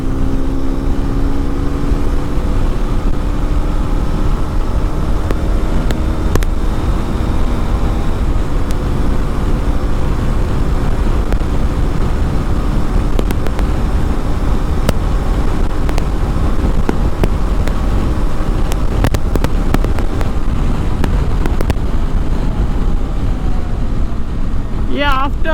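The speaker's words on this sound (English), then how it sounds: "Now let's see how much the Xpulse 210 can go." A Hero Xpulse 210 motorcycle engine holds a sustained high-speed drone with its pitch slowly climbing. Loud, constant wind roar nearly buries it, and a rider's voice is faintly heard under the noise.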